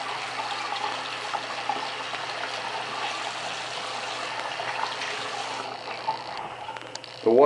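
Tap water runs steadily in a rental home's kitchen or bathroom sink, a continuous hiss and splash that carries on throughout and is clipped by a louder burst at the end.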